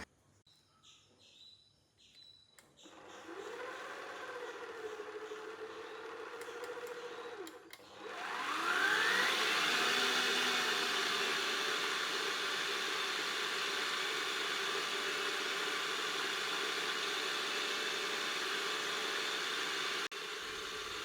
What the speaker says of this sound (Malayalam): അതിന് ശേഷം ഇതിനെ നന്നായിട്ടൊന്ന് നമുക്ക് ബീറ്റ് ചെയ്തെടുക്കാം.